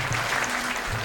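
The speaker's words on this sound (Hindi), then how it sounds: "एक बार जोरदार तालियों से हेमंत पांडे जी" Brief burst of audience applause for poet Hemant Pandey at a Hindi comic poetry gathering, a short dense clapping wash heard close.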